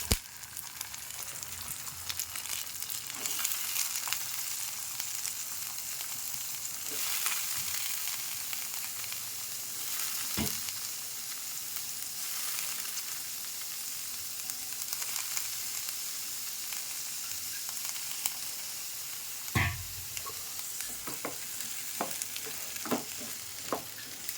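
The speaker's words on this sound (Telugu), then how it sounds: "కట్ చేసుకున్న గోరు చిక్కులు వేసుకోవాలి" Chopped cluster beans sizzle and fry in a pan in a milk-based curry, giving a steady bright hiss throughout, with occasional scraping clicks from stirring, close and even, with no talk.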